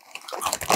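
A close, crisp crunch as a Doritos 3D Crunch Three Cheese chip is bitten and chewed, building from light crackling into a louder cluster of crunches.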